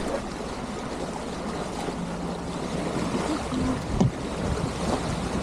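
A sailing boat motoring under engine through the calm Strangford Narrows in light wind, with a steady low engine drone beneath rushing water and wind noise, plus a brief knock near the end and no talking.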